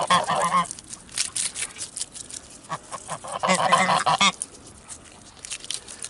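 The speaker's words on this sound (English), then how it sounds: "But here come the other geese" Franconian geese honk in bursts of loud nasal calls, several overlapping birds close by, with short quiet gaps between clusters of honking.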